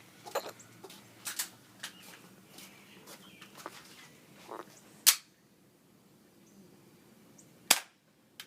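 Airsoft gun shots fire outdoors as a string of sharp, irregular pops, faint to moderate, then two louder isolated cracks after a quiet gap.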